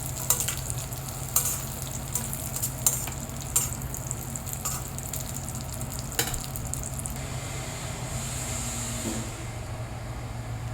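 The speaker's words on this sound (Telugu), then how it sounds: "తర్వాత కిస్మిస్, అంజీర్ అండి. ఈ రెండింటిని కొంచెం ఫ్రై చేసుకోవాలి." Raisins and dried figs being fried and stirred in a pan for dry fruit laddu, a steady close sizzle with scraping stir clicks throughout, no talking.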